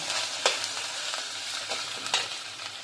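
Tomatoes go into a hot pan for rohu fish curry with cauliflower and potato, producing a steady close sizzle and frying hiss broken by a few soft stirring clicks.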